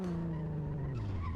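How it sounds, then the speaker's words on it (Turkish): A car in the Assetto Corsa racing game skids with tire squeal into a small crash on a trafficked Shuto expressway, engine note dropping as it slides, loud and brief. "Ufak bir kazamız yaptık."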